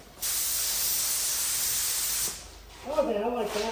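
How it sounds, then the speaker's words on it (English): A loud, steady hiss of an aerosol spray paint can painting a car roof runs for about two seconds, then stops; a voice speaks briefly afterward. "Let's spray, baby."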